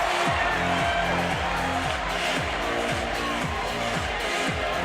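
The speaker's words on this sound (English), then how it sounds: "Listen to this crowd." A dense arena crowd at a live MMA fight between Kevin Belingon and Koetsu Okazaki roars and cheers continuously, with a steady rhythmic low pulse running beneath the loud, unbroken wash of noise.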